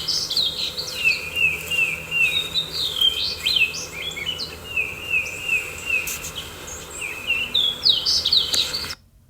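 A finch sings a series of bright chirps and warbled trills, with a steady insect buzz underneath.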